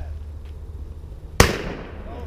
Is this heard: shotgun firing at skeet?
yes